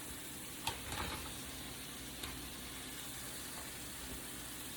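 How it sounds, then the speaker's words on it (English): Shrimp dropped into a hot pan with nearly cooked mushrooms, giving a steady low sizzle and frying hiss with a couple of brief clatters near the start. "I'm gonna just throw my shrimp in there now."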